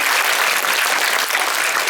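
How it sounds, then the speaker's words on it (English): An audience at a screening applauds, a brief but full burst of many hands clapping that sounds steady and moderately close. "it's getting a round of applause to the back"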